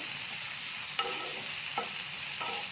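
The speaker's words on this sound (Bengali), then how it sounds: "এই তেলের সাথে ভালো করে মিক্স করে" Sabudana frying in oil, a steady close sizzle with a few light scrapes as it is stirred around the pan, no voices.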